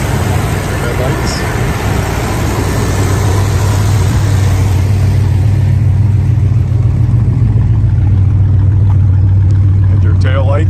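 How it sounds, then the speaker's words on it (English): A 1965 Plymouth Barracuda with dual exhaust idles at a car show, a loud steady low engine rumble running throughout, close to the listener with outdoor background noise. "And your tail lights and the dual exhaust. It's got a nice sound to it."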